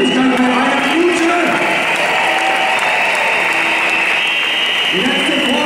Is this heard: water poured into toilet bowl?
no